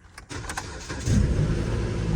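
A Lexus GX-470 engine cranks with a few clicks and whirs, then fires up and settles into a steady, close rumbling idle.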